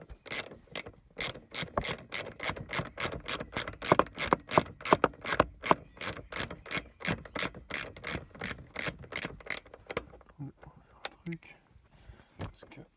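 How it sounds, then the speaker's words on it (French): A ratchet wrench clicks in a fast, steady series of sharp, close, loud pawl clicks while tightening on a Citroën BX steering column, then stops, leaving faint handling noises. "Avec le cliquet, je vais le cliquer."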